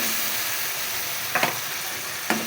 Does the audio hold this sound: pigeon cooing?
no